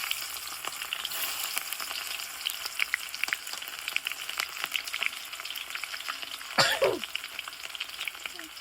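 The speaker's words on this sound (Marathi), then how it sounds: "तेल खूप तापले टाकले जिरे हे टाकला लसूण हे टाकला कांदा" Cumin, garlic and onion fry in very hot oil with a steady, fairly quiet sizzle and occasional crackles, plus a brief throat-clearing or cough sound near the end.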